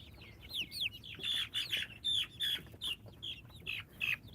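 Chickens in an indoor coop with a tetherball toy make a rapid series of close, bright clucks and chirps, each burst short and sharp, repeating steadily over a low background rumble.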